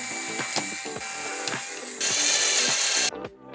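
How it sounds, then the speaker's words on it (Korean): A power drill bores a hole in a broken detergent dispenser during a repair, its motor whirring steadily and close with short bursts and a brief higher-pitched surge before it stops. "드릴로 구멍을 뚫어버렸어요."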